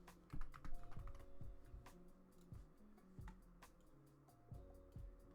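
Rapid keystrokes clatter on a computer keyboard in short irregular bursts, close and crisp, over a faint steady musical tone with no talking.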